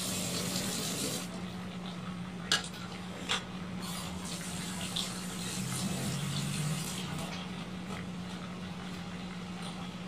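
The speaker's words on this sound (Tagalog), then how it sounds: "Magdadagdag lang ako ng tubig kasi mas masarap pag maraming sabaw." Water pours steadily into a pot of sinigang na bangus being cooked with kamias and kangkong, a continuous rushing flow with a few faint clinks and no talking.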